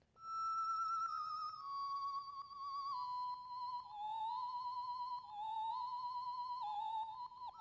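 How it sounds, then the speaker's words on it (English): A synth lead plays a sustained, gliding melody near the end of a beat, stepping down through held notes with bright harmonics over a soft low backing, loud and continuous with no voices. "And then at the end I have it playing like this really cool like lead."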